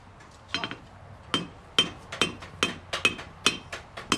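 A blacksmith at a Civil War reenactment hammers hot steel, striking about ten sharp ringing blows in an uneven rhythm, close and loud with no talk.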